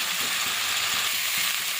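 Fried potato and pointed gourd pieces cook in fish curry masala with a loud, continuous sizzle, with faint rhythmic scraping of stirring underneath.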